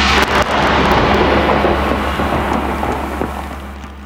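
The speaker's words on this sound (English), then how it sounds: "Another big bang coming right up." Explosive blast at a road construction site, a loud close boom that opens sharply and then rolls into a long rumbling roar slowly fading over several seconds.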